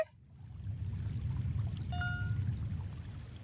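Water flows softly in the Project Songbird video game, a quiet, continuous trickling stream with a brief chime ringing partway through.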